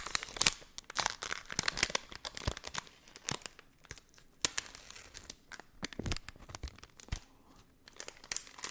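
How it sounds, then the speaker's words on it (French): A Yu-Gi-Oh! booster pack wrapper is torn and crinkled open up close, with sharp, irregular bursts of tearing foil and rustling plastic separated by quiet gaps. "on va commencer à ouvrir le premier booster"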